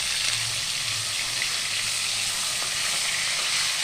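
Fish fry in mustard oil, giving a continuous loud hissing sizzle close by that stays even throughout, with a faint low hum underneath and no talk.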